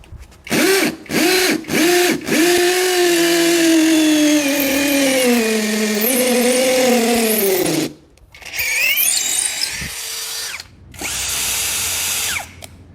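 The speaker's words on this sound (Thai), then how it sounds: "เราปรับมาที่รูปค้อนเป็นระบบกระแทก เดี๋ยวเจาะกระเสานะครับ ผมปูนแข็ง" An STR ST-712 cordless impact drill set to hammer mode bores into a hard concrete pillar: several quick trigger revs, then a long, loud, rattling whine close by, followed by further shorter bursts.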